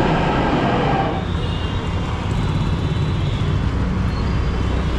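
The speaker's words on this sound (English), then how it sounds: "we're gonna hop on the metro and head over to Lakshmi Nagar." Delhi metro train riding along, a steady loud rumble and rail hum filling the cabin throughout, with no talk.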